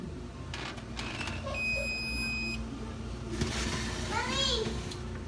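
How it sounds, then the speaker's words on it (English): An oven timer beeps in a home kitchen while a child bakes, a steady electronic tone held for about a second amid a child's chatter and household bustle. "the oven is beeping from the timer"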